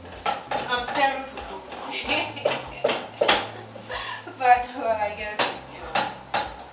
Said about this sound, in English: I'm stirring fufu.